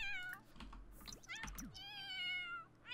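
Cats meowing in a pet-care video game, several close, wavering meows with keyboard clicks underneath.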